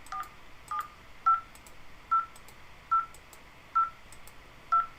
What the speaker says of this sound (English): I would pick up the phone, and it's dialing